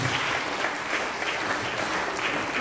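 Sustained applause from an audience at a church gathering, with dense, steady clapping filling the room at an even level throughout.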